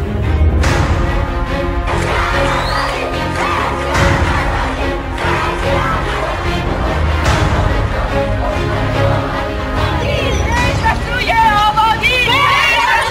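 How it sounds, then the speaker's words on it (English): Iranian schoolgirls chanting anti-regime slogans, a crowd of young voices shouting in unison, loud and continuous over background hubbub and street noise. "schoolgirls in that country are now chanting anti-regime slogans, even booing government officials"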